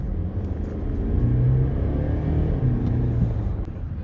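Mercedes GLC 300d AMG 4MATIC diesel accelerating hard in Sport Plus mode, a loud sustained engine rumble that builds and holds, heard from inside the cabin with no talking.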